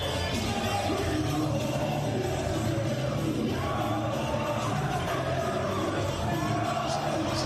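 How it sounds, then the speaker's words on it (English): A hot wrestling arena crowd roars and chants at a match, a dense, loud, unbroken wall of voices with yells rising from it. "And they're chanting, Joe's gonna kill you."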